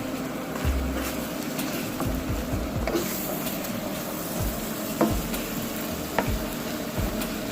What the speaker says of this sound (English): Now I'm going to stir